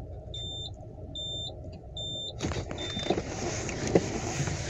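Rear parking distance control sensors on a Volkswagen Jetta MK6 sedan beep in three short evenly spaced tones, followed by a shifting rumble of the car moving, with no talking.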